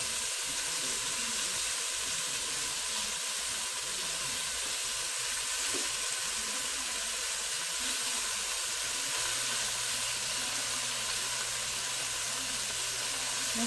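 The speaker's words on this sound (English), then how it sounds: "I don't sear things often just because I think it's a lot of trouble." Beef searing in a hot pan gives a steady, even hiss of sizzling fat that carries on unbroken at moderate volume, alone without talk.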